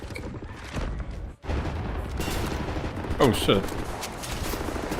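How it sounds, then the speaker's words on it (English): Wolfenstein suppressing fire: sustained bursts of gunshots roll densely and loudly through the stretch, with a brief drop partway through and a voice exclaiming over the shooting. "Right, lads, you ready to lay down suppressor fire?"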